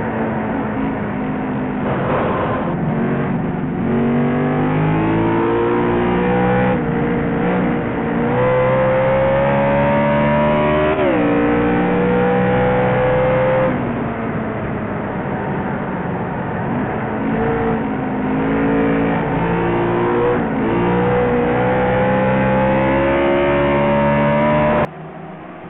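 Race cars howl around the New Hampshire oval in a Pro Series race, engines droning loudly and continuously with pitch rising and falling as they accelerate and pass in a tight pack.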